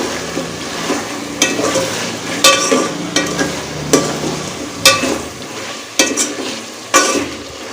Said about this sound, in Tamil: சிக்கன் சேர்த்துட்டு ஒரு ரெண்டு நிமிஷத்துக்கு இது எல்லாத்தையுமே நல்லா ஈவனாக மிக்ஸ் பண்ணி விட்டுக்கலாம்